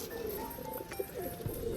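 Pigeons in a cage coo softly a few times against a faint background hum.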